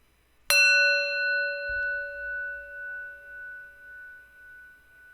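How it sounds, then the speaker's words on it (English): A single bell is struck once and rings out with a clear, pure tone that slowly pulses and fades over several seconds, with a brief low thump shortly after the strike and no voices. "We're going to warm up the bell there."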